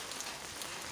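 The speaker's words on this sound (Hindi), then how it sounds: "ज़्यादा बारिश था" Heavy rain pouring steadily during the monsoon season, a dense continuous hiss of drops hitting surfaces with no gaps, close and enveloping.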